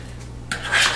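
Coleslaw tossed in a bowl makes a short, close clatter of utensil against dish, with a soft scrape that rises into a brief, louder rattle.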